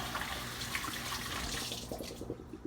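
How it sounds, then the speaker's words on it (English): Tap water running into a sink while lettuce is washed, a loud steady rushing stream with splashing that thins toward the end as the flow changes. "I'm gonna wash off this lettuce."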